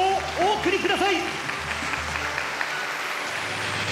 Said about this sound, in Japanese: 皆様今一度盛大な拍手をお送りください